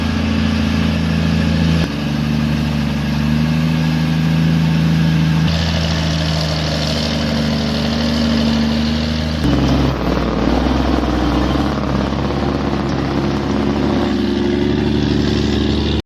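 Heavy logging trucks labor under load, their engines droning in a deep, continuous roar with shifting tone, loud and close.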